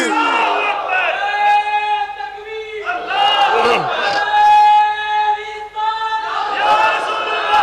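A religious gathering at a Naqshbandi dargah answers a takbir call with loud shouted chants of Allahu Akbar, three forceful waves of many voices in unison, close and powerful.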